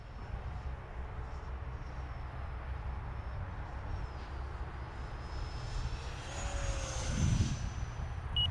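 Electric ducted fan RC model jet, heard from a distance as a steady airy whine over a broad rumble that swells slightly louder near the end, outdoors with no talk.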